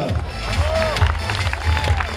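A crowd at a Toro Piscine event in Moliets claps and cheers in a lively burst for six teams, with scattered voices calling out over the steady applause.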